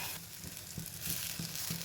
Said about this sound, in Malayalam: ഇനി ഇതിലേക്ക് നമുക്ക് കറിവേപ്പില ആഡ് ചെയ്യാം.